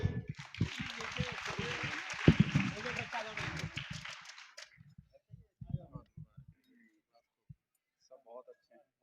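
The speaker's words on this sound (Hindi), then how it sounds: "भाई जोरदार तालियां बच्चों।" Applause for children receiving medals at an Allama Iqbal foundation poetry gathering: a dense burst of clapping for about four and a half seconds that fades out into scattered noises and quiet.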